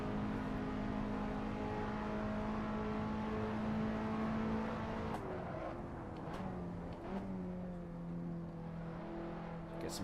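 A Peugeot 206 engine drones steadily through a long corner in the Assetto Corsa racing game, then dips and shifts pitch as the car works through the turn, with tyre noise and a steady background wash.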